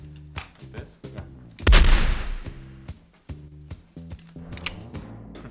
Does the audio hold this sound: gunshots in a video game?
yes